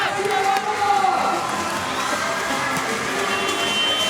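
Packed arena crowd at a China versus Germany women's basketball game keeps up a steady roar of cheering and shouting, broad and continuous, with commentary speech running over it.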